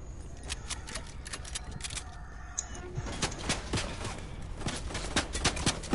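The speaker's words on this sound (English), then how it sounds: "I don't even know what the gunfire is coming from" Gunfire in a Fortnite match: rapid clusters of sharp cracks and bursts scattered throughout, fairly distant and layered over game ambience, growing busier toward the end.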